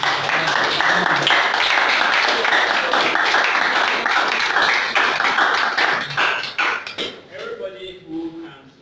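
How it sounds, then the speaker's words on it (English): A round of applause from a tech community meetup audience in Kumasi, dense steady clapping close by, fading out near the end as a voice begins to speak. "can we get a round of applause?"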